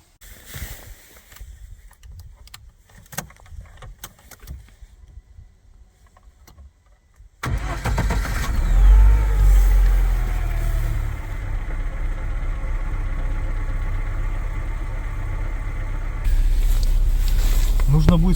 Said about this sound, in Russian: Заводим машину.